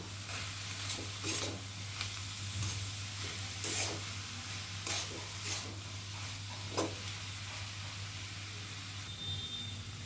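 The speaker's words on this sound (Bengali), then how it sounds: "ভালো করে এবারে নাড়াচাড়া করে নেব।" Cabbage with ilish fish head and coriander powder is stirred in a hot pan, with a steady low sizzle and repeated scraping strokes of a spoon at an even pace over a constant low hum; no voices.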